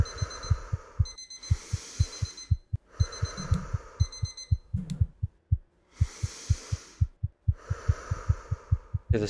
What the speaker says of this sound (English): This heartbeat can stop.